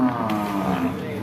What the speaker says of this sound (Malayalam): ആ പോണു പോത്ത്.